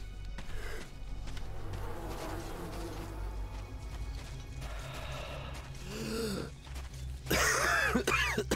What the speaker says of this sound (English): He's coughing when the gas mask runs out, right?